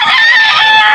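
Chickens at a busy pet market in Bocaue, with a loud, sustained high-pitched fowl call ringing out close by for about a second with no talk over it.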